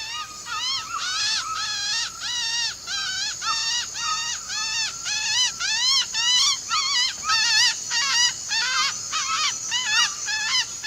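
A man in the Amazon rainforest mimics a bird call, a voice imitating the bird with a long run of rapid, rising whistled chirps repeated in steady bursts, close and fairly loud over faint forest background.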